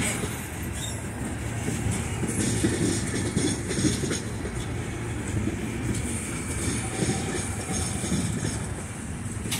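A short CSX freight train rumbles past steadily, wheels clattering and squealing faintly over the tracks, loud and continuous with no voices.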